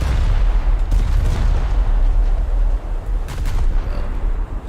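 Heavy guns of the battleship USS North Dakota firing in a naval combat game, a steady deep rumbling roar with layered booms, loud and continuous with no talk.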